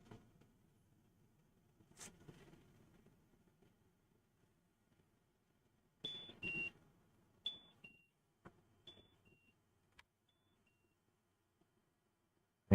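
Car keys jingle and scrape in short, faint metallic bursts, with a few thin beeps in between and long quiet gaps.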